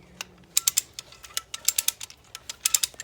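A ratcheting fence stretcher tightening woven wire fence, giving off a run of sharp, close metallic clicks in uneven bursts, with quick clusters of ratchet snaps and brief pauses between them, and no talking.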